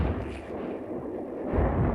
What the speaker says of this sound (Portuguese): Alguns semi-lagartas, equipados com canhões triplos de 20 mm, posicionaram-se nos flancos do posto de comando da artilharia e abriram fogo.